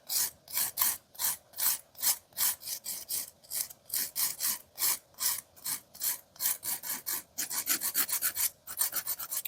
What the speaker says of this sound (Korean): 이 큐티클 라인 파일링을 할 때는 피부를 들어서 파일이 최대한 닿지